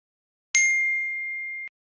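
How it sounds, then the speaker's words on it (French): A phone notification ding rings out once, a clear bright chime that hangs with a sustained ringing tone for about a second before cutting off, alone with no talk. "C'est ton téléphone qui a reçu une notification?"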